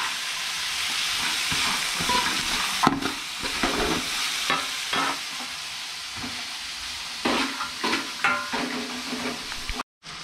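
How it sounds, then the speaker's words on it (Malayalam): Onions and curry leaves sautéing in a pan, a steady sizzle with intermittent scraping stir strokes, close and fairly loud, ending with a brief cut to silence. "നമുക്ക് ആവശ്യത്തിന് കറിവേപ്പില എല്ലാം കൂടെ ഇട്ടതിന് ശേഷം നല്ലോണം ഒന്ന് വഴറ്റിയെടുത്തിട്ട്"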